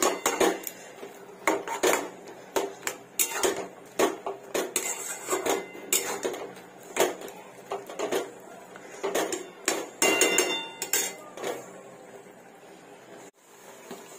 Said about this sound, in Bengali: নুন, মিষ্টি, হলুদ দিয়ে এটাকে নাড়াচাড়া করতে থাকবো